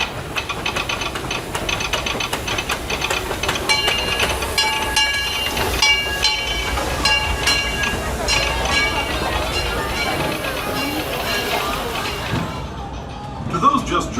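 The Disneyland Railroad train arrives at a station where guests wait, rumbling and clattering nearby with hissing and metallic squeals, a steady loud mechanical din that fades toward the end, voices faintly mixed in.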